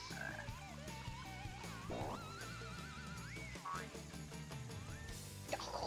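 Frog croaks in the video game Sonic Adventure DX, sounding over busy game music with wavering tones throughout, moderately loud.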